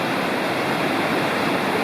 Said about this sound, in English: That's the Citico Creek going off to the left there and coming underneath the bridge I'm on.